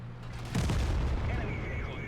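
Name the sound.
tank cannon shot in World of Tanks video game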